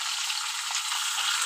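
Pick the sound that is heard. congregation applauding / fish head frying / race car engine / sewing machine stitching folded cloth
fish head frying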